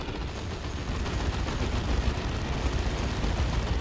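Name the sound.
assault cannon gunfire in video game Dawn of War 2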